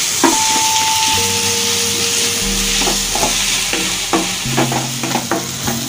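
Finely chopped tomato fries in a pan of dried prawn roast with a continuous bright sizzle and hiss, broken by occasional scraping stirs, close and fairly loud.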